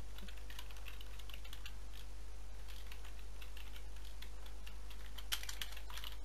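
Quick, light keystrokes tap out a file name on a computer keyboard, irregular bursts of clicking at close range over a steady low electrical hum, with no talking.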